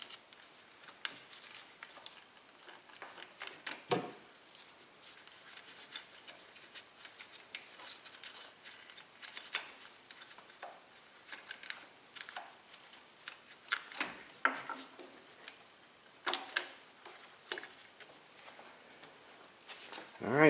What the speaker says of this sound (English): Now I'll remove the coils.